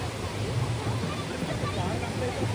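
Water flows over rocks in a stream in the Araku valley, an even, close rushing wash that never lets up across the short moment.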